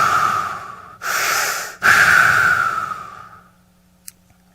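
A voice mimics a hospital ventilator with loud, close breathy whooshes: a burst, a short gap, then a longer hiss that fades into quiet, ending in one small click.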